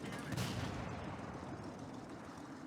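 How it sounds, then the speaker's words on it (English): A single tank gun shot in a video game: one heavy, booming blast near the start, followed by a rumbling tail that fades slowly over the next two seconds. "So there's the second shot."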